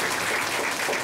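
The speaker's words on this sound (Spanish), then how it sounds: "John, un aplauso por favor para nuestro amigo." Audience at a Peruvian cataract-surgery benefit ceremony applauding a Vision Care representative, a dense, even wash of clapping with no voices over it.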